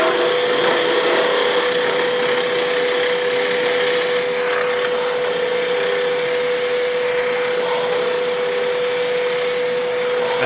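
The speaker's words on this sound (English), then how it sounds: "Roughing gouge tears a little bit, so then I'm going to go to my skew." Wood lathe turning a spinning blank while a skew chisel takes light slicing cuts, a steady whirring hum with a faint tonal whine and soft scraping texture throughout, close and continuous with no talk.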